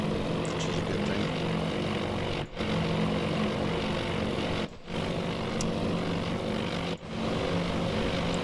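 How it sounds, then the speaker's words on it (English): Bomber aircraft engines in the naval war game Task Force Admiral drone steadily and loudly, a continuous propeller roar broken by three brief dropouts. "Got a few bombers coming in, which is a good thing."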